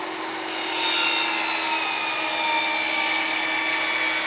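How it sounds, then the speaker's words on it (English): A saw cuts a 2.5-inch-wide wooden trim piece in half for corner joints while finishing a shipping container office. The cutting is a steady, loud, continuous rasp with no pauses, and no one speaks. "for the corner joints, we're going to cut a piece in half, and we're going to use a half width piece"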